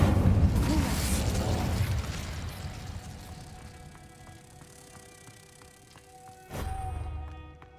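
Incendio fire spell cast in the Hogwarts Legacy video game: a loud crackling whoosh opens and fades away, then a sharp burst lands near the end.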